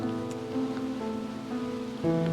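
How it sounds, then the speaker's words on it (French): Steady rain falls with a constant hiss, moderately loud and even throughout, with a sudden thud near the end. "Il pleut maintenant"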